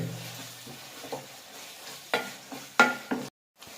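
Beef keema with finely chopped fresh coriander and green chilies stirred in a pan, close-up scraping strokes coming in irregular bursts over a soft sizzle, ending abruptly in silence.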